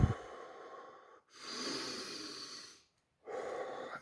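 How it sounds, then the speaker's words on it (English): A person takes deep breaths, three long airy inhales and exhales close to the microphone, each separated by a brief silent pause. "So you take a few deep breaths."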